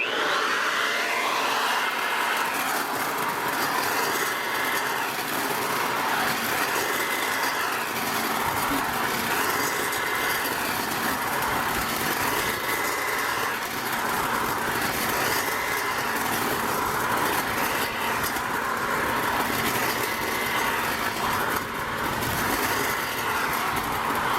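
A leaf blower runs continuously during yard work, a loud, close, whining rush of air that rises and falls in gentle, repeating surges as its speed shifts.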